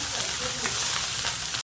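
Sesame seeds, fenugreek and curry leaves sizzling hard in hot oil for a tempering, a loud continuous crackle with a few brief pops that cuts off abruptly near the end.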